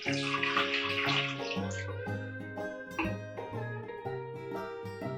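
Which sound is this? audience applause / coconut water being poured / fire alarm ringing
coconut water being poured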